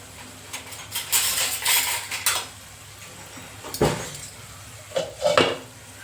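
Potato slices flipped in a pan with a spatula, a series of close metallic scrapes and clanks in bursts, with quieter gaps between the strokes.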